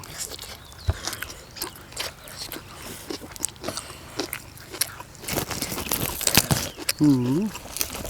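Close, crunchy biting and chewing of grilled pork ribs eaten with a spicy Thai-style bean salad, irregular bites and mouth sounds with a voice talking over them at times.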